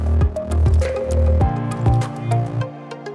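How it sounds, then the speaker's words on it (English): Fresh strawberries and water being dropped into a kitchen blender, a series of loud, wet squishing plops and drips as the fruit lands, close and continuous with no talking. "then we're going to add our 3/4 cup of strawberries to the blender"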